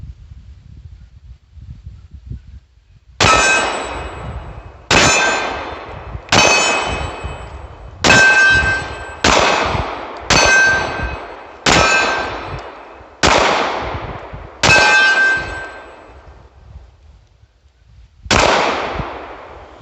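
Sccy DVG1 pistol firing hollow point rounds outdoors, nine loud sharp shots with ringing decay, spaced roughly one to two seconds apart with a longer gap before the last.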